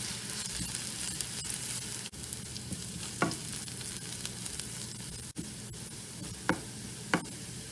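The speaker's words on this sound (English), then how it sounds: "So I'll fry this until it's half done." Onions frying in a pan for a quick chicken fry, a continuous close sizzle with occasional sharp clinks and scrapes of a spatula against the pan, no voices over it.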